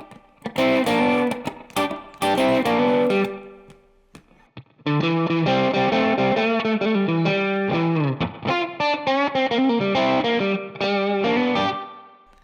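Overdriven electric guitar plays a bluesy lick, bent notes and quick runs with a brief pause before a longer phrase, loud and distorted, no voices.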